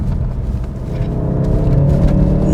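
A Volkswagen Golf 7 R with a Stage 1 tune accelerates hard in third gear, its engine giving a loud, deep, steady rumble that builds in pitch from inside the car.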